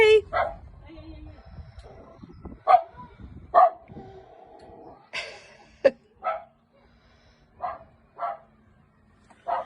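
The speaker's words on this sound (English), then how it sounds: "I've been warned about the barking." A territorial Cockapoo dog barks in sharp, separate bursts, about nine over the stretch, close and loud, with people talking at times between the barks.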